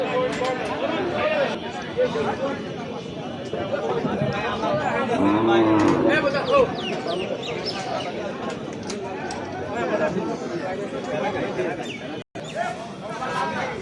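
Busy outdoor weekly cattle market in Faridpur, Bangladesh, with constant crowd chatter and people talking nearby, and a cow lowing once in the middle.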